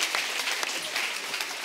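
Studio audience applause on a Spanish television film-talk show, a steady dense clapping wash that holds evenly at full strength from start to finish with no voices over it.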